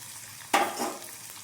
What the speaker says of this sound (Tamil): இப்போது வெங்காயம் நல்லா வதங்கட்டும்.